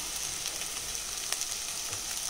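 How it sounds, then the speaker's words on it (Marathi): Potato pieces fried with red chili powder for a Maharashtrian potato curry give a close, steady sizzle with light crackles throughout, and no one speaks. "बटाट्याच्या फोडी परतल्यानंतर त्याच्यामध्ये आपल्याला लाल तिखट टाकायचं आहे."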